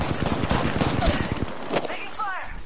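Rapid bursts of automatic gunfire in a shooter video game crackle loudly and close, overlapping with excited talk from the player.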